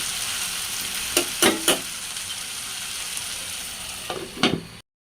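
Yardlong green beans stir-fried in a pan with potatoes for a fish dish: a steady close sizzle, broken by a few sharp spatula scrapes and clanks, before cutting off.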